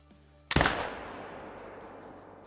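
A single loud hunting-rifle shot in Call of the Wild, fired at a warthog, with a sharp crack and a long decaying echo tail over a quiet background.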